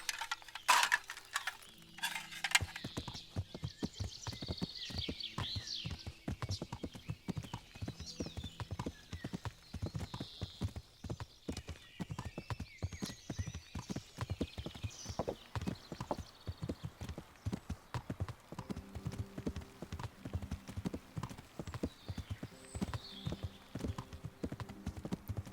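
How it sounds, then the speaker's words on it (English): Horse hooves clip-clop steadily in the video game Kingdom Come Deliverance, a continuous close rhythm of hoofbeats across the whole stretch with a brief whinny-like burst at the start. "Now I'll call the horse over."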